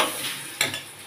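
Chili peppers frying in a pan give a close, steady hiss, with a sharp burst of sizzle or a utensil clink partway through, and no talking.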